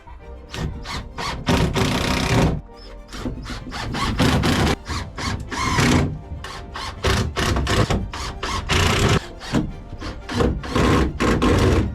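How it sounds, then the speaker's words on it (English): Hinges being installed on the woodwork of a campervan being rebuilt, with loud bursts of a power drill or driver whirring and squealing into wood in repeated short runs, near and close-up, without talk. "Now we've got hinges to install, 4 big uns all along there."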